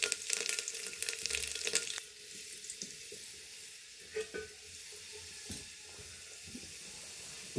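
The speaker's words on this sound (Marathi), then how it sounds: "फोडणी चांगली तर तडले" Garlic tempering sizzling and crackling in hot oil, the sliced garlic dropped in, with a dense loud burst over the first two seconds, then a quieter steady fry broken by occasional stirring clinks.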